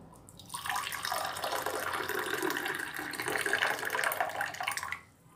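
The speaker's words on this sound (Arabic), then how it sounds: "ناخذ منه القليل ونضيفه في الكأس ديالي ونصب عليه الماء" Boiling water pours steadily into a glass over a few saffron threads, a continuous close splashing stream lasting several seconds before cutting off.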